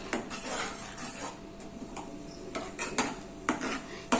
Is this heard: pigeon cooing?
no